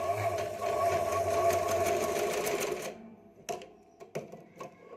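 A sewing machine stitches two fabric strips together with a close, rapid mechanical whir for about three seconds, then stops and leaves a few scattered clicks and handling knocks.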